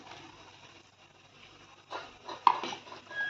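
A few soft clattering thuds as elephant foot yam pieces drop into a pot of boiling curry, preceded by a low kitchen hiss.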